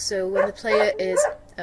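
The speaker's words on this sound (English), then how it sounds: "sorry about the dog in the background there" Dog barking in the background, several short barks in quick succession heard alongside someone talking over them.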